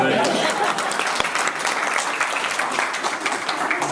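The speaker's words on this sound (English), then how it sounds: "Well, at least give him a round of applause." A live audience gives a sustained round of applause at a Mayberry Deputy show, dense clapping filling the room steadily for the whole stretch, close and loud with no break.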